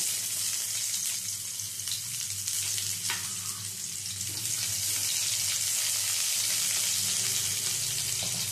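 Chopped onion fries in oil with nigella seeds and a dried chili, making a continuous close hiss and crackle that swells slightly louder in the second half, with a few soft stirring knocks.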